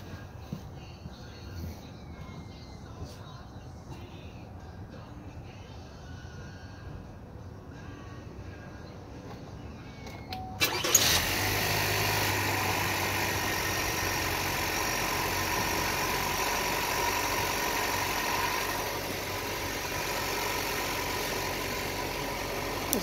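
A small turbocharged car engine, quiet at first with faint voices, then cranks and catches about halfway through, settling into a steady, fairly loud idle that holds to the end.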